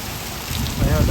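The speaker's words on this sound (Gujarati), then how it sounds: "2 થી 5 મિનિટમાં સારો વરસાદ પડી ગયો." Heavy rain pours onto a road in a Gujarati village, a dense, continuous hiss of drops that swells louder toward the end, close and steady.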